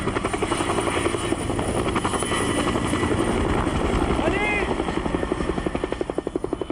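Firefighting helicopter flying over a forest fire, its steady rotor thrum filling the whole stretch with a continuous loud chop, and a voice talking over it.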